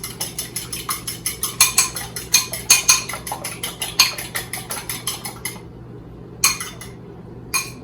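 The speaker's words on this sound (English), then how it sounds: "your 2 eggs. You need to whisk them" Two eggs are whisked in a bowl with a fork or whisk, a quick rhythmic run of light clinking taps against the bowl that speeds up, then stops, with two last isolated taps; close, no voices.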